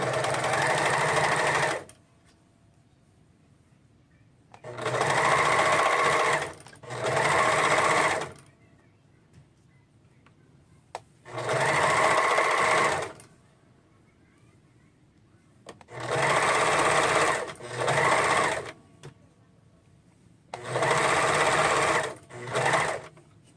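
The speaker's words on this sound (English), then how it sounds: "all you're going to do is you're just going to attach to this with the serger or your sewing machine" A serger or sewing machine attaches binding to a garment. Six loud, steady whirring runs, each lasting a couple of seconds, are separated by short quiet pauses.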